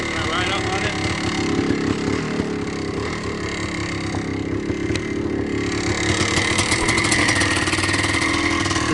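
A 1983 Yamaha IT490K motorcycle engine runs steadily at idle and low revs close by, a continuous mid-pitched drone under people talking throughout.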